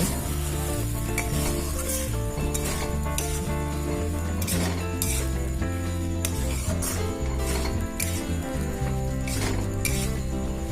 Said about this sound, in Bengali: এরপরে আমরা ভালো করে কষে নেব।